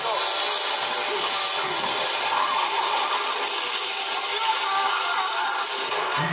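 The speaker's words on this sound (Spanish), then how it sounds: "Usa la motosierra, después se cubre y sigue sonando la motosierra el motor." Chainsaw engine from Gears of War, a continuous high buzzing roar that keeps running steadily and loud throughout, with a gritty rasping texture and no breaks.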